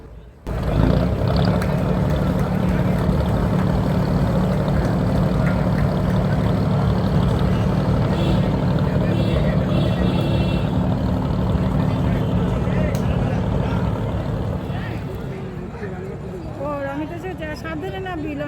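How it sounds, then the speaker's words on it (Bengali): A river ferry launch's engine drones loudly and steadily up close as the boat pulls away from the ghat at high tide, a constant low rumble with voices talking over it. "আর বলতে বলতেই লঞ্চটা ছেড়ে দিল।"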